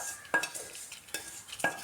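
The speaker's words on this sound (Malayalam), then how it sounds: "ഇനി ഇത് ഒന്ന് മിക്സ് ചെയ്യാമേ." Cucumber curry being stirred in a pan with the heat off, giving a few distinct scraping strokes of a spoon against the pan at a steady, unhurried pace, close and fairly quiet.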